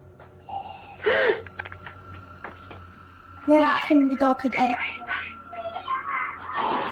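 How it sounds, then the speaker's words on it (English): A raspy, wheezing breath rises briefly, then several harsh, strained exhales follow in a quiet room, with faint tonal noises in the background. "To me, that sounds more like a rasp than heavy breathing."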